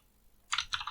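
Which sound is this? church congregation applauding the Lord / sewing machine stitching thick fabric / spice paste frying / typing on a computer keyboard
typing on a computer keyboard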